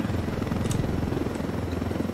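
A helicopter flies in the video game Ghost Recon Wildlands, a loud, continuous rotor thrum with steady low pulsing that fills the whole moment without talk.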